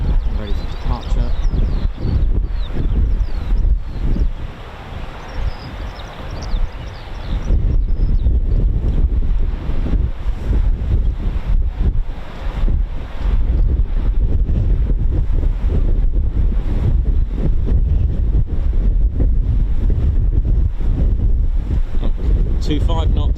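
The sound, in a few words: strong wind blowing at an airfield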